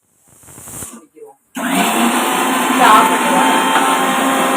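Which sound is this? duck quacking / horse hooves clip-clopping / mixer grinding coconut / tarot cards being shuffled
mixer grinding coconut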